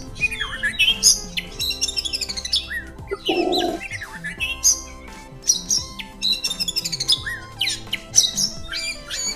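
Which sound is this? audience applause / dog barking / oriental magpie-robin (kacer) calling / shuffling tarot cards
oriental magpie-robin (kacer) calling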